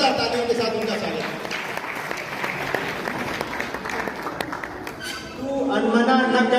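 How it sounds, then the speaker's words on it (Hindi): Applause from an audience at a Hindi poetry stage event welcomes a speaker, a dense crowd of clapping that runs continuously, dips briefly, then surges louder again near the end. "जरा जोरदार तालियों के साथ उनका स्वागत।"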